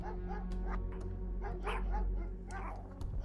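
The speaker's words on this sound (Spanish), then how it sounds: "Oí los perros que gruñían y jadeaban." Dogs in a gothic ghost story, a close cluster of growls, yips and whimpering barks in uneven bursts over a low rumble.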